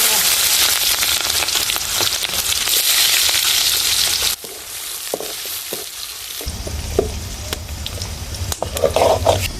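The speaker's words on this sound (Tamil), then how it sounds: "எண்ணெய் நல்லா காஞ்சிச்சு கடுகு போட்டு வெங்காயம் போட்டு" Mustard seeds and onions sizzle and crackle in hot oil on a home stove for a brinjal curry, a loud, dense frying hiss that drops briefly midway with a few clinks and pops, then surges back up.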